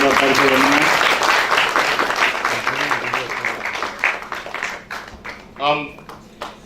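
Strong, dense applause from an audience at a stage function greeting guests carries on for several seconds, gradually tapering, with a voice briefly speaking near the end.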